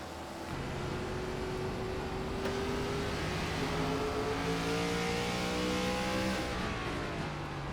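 An ARCA Series race car, the 06, heard onboard at Kern, its engine droning loud and continuous as the pitch climbs steadily through the gears with no talk.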